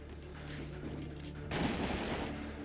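Sniper gunfire in Marvel's Spider-Man video game, a rapid burst of shots that grows louder and denser halfway through, sharp and continuous with no speech over it.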